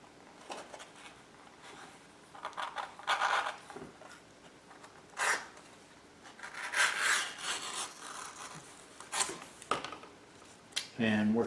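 A leather lace cutter slices a half-inch strap from belt leather in intermittent rasping, scraping strokes, close and fairly quiet, with short pauses between pulls.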